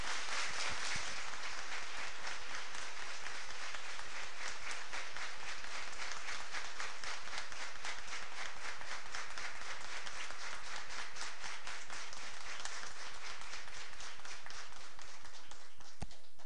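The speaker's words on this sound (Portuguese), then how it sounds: "pedimos agora uma calorosa salva de palmas" Warm applause from the congregation at a funeral mass for Dona Rosinha do Horto fills the space as a dense, continuous patter of many hands, steady and sustained with no pause.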